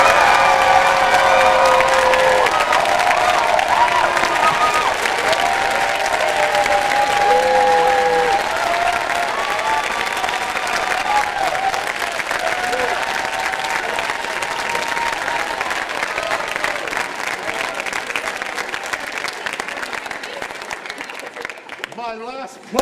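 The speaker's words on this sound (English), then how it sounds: "applaud as madly as you can" A large audience applauds loudly and steadily, a dense wash of clapping with some cheering, fading slightly toward the end.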